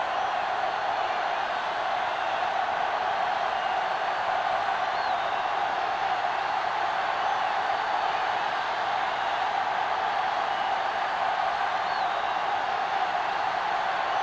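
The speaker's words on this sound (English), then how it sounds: "the crowd in full throat as we get this new season started with the kickoff" A stadium crowd roars at kickoff to open a new season in a football video game, a steady, dense wash of cheering that holds at even loudness from start to finish with no pauses.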